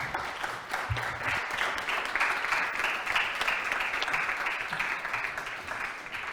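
An audience applauds at a conversation event, a steady wash of many hands clapping that holds evenly from start to finish with no voices over it.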